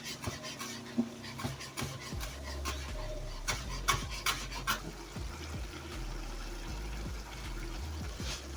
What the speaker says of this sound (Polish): Dokładnie mieszamy